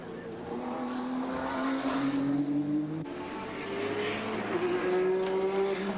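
A touring race car at the 1992 Bathurst 1000 passes nearby, its engine note climbing steadily with a brief shift, then droning on as it pulls away, under continuous wide track ambience.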